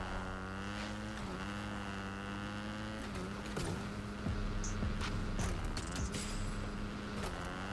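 Motorcycle engine in the Fortnite video game, a steady droning whine that rises and falls in pitch as the rider performs stunts, with clicks and game effects over it.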